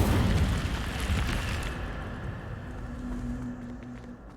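An Incendio fire spell is cast in the Hogwarts Legacy video game: a loud, close, broadband roaring burst that slowly fades into a low rumbling tail with a steady hum, with no voices.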